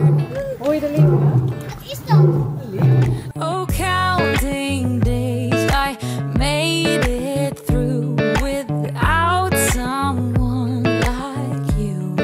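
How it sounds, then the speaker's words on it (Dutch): Lions roar in their enclosure at the Landgoed Hoenderdaell zoo, deep repeated calls heard through nearby voices, with people, including children, talking close by. "Hoor je de leeuwen?"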